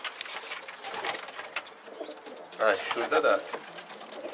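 Pigeons coo in a henhouse coop, a few soft bursts of cooing rising near the end over rustling background noise, while someone talks nearby.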